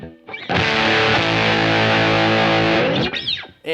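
Fender Telecaster through a Mythos Golden Fleece fuzz pedal with the volume knob just above half, one thick buzzing chord held for about two and a half seconds, then a short slide and fresh attack, loud and unaccompanied.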